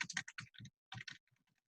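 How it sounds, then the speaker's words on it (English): Typing on a computer keyboard during an online webinar: a close run of irregular clacking keystrokes in quick clusters, then a brief pause and a few fainter, sparser taps. "I'm just typing that in the window, SSL certificate"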